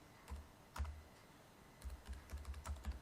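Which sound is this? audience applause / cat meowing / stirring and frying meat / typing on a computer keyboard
typing on a computer keyboard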